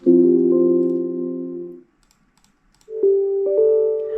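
A clear Windows 10 build 10074 beta notification chime rings out: a sustained tonal note, a brief silence, then a second, higher two-step chime.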